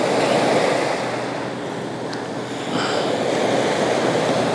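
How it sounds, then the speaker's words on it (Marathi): Steady roar of sea surf at Mirya Bandar fishing harbour, Ratnagiri, with wind buffeting the microphone; waves wash continuously as fishing boats cut through them, and a faint engine-like hum may sit underneath. "बघा कशा लाटा कापत ह्या होड्या जात आहेत"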